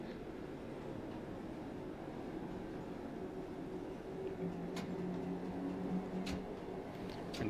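A London Underground Bakerloo line train in Train Sim World 2 runs with a steady low rumble and rolling wheel noise, joined later by a rising motor whine and a few sharp clicks and squeals, with no one speaking.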